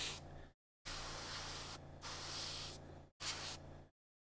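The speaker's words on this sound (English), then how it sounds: "I typically will feather the paint, and like I'm doing now, and I'm not spraying a ton of paint." Airbrush spraying paint in light feathered passes while painting Blood Angels miniatures, a steady close hiss in three long bursts broken by short silent pauses.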